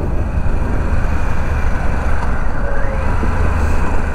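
A 2021 Harley-Davidson Pan America motorcycle accelerating, a loud, dense engine roar with heavy wind rumble, rising slightly in pitch as it pulls, steady and close throughout.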